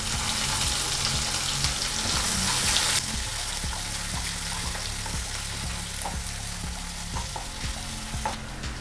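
Onions frying and sizzling in a pan while cooking tomato aval upma, a steady hiss with scattered crackles and stirring scrapes, fairly close and continuous with no talk.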